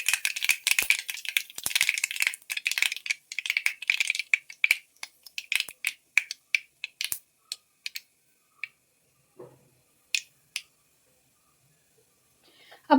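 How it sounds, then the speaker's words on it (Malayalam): Mustard seeds pop in hot coconut oil with dense, rapid crackling and snapping for the first few seconds, then thinning to scattered sharp pops with growing gaps of quiet. "കടുക് ഒന്ന് പൊട്ടി വരട്ടെ."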